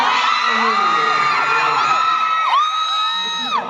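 A large crowd shrieks and cheers loudly, with high-pitched screams rising and falling in overlapping waves.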